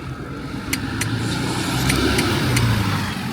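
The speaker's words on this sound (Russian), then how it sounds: "вон автобус едет" A bus rolling past on a street with a steady engine rumble and road noise. The sound swells gradually as the vehicle nears, with a few faint high clicks above it.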